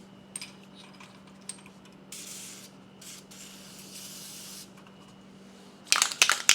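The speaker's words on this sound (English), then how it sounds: "I'll hit them a little bit of fluid film because I took all the grease off of them" Short bursts of Fluid Film corrosion preventative are sprayed from an aerosol can onto a washer and spacer from a Scotts S1642 mower's Tuff Torq K51 transaxle. The hissing spurts are faint and intermittent, followed by louder clattering handling at the end.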